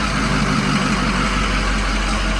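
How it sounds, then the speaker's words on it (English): A car engine runs loud and close after a remote start from a car alarm system, a dense steady roar and rumble with no distinct cranking, continuous throughout. "And then now it's gonna hit the crank. It's gonna crank right up now."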